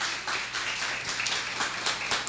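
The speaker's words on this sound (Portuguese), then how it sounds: "Pode aplaudir bem forte, Ele é o Senhor." A church congregation claps loudly and continuously through a worship service, dense steady applause filling the room with no voices heard over it.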